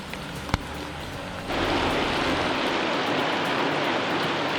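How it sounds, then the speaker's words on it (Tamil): Rainwater flooding Santhome Road in Chennai during a downpour gives a steady broadband rush of rain and running water, with a faint click early on; it grows louder partway through and continues evenly. "ஒரு மணி நேரம் பெய்த மழைக்கே தற்பொழுது இந்த சாலை மூழ்கி இருக்கக்கூடிய சூழல் இருக்கிறது."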